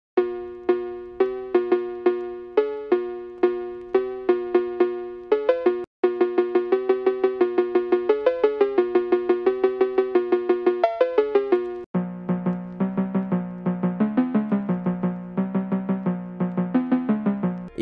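A cowbell melody from a phonk track built in FL Studio, bright pitched metallic strikes in quick repeated phrases, loud and dry, shifting to a lower register for the final section.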